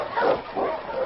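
A dog named King barks in an old-time radio drama, a few short, muffled woofs in a band-limited, broadcast-quality recording, each swelling and fading within about a second.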